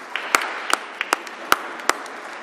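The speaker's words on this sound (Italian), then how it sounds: "Un applauso, prego." A few guests at a fiftieth wedding anniversary celebration clap in sparse, separate sharp claps, five or so distinct strikes over a quiet room tone rather than full applause.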